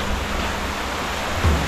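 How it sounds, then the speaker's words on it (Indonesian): Forest river flowing beside the bank on a rainy day, a steady broadband rush of water with no voices. "Nah, jadi saya sudah ada di pinggir sungai ya."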